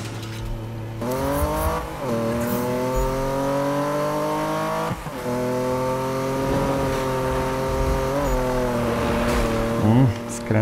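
BMW in Need for Speed (2016) accelerating hard, its engine note rising through gears with steady revving harmonics and brief dips at shifts, loud and close, with talk over it.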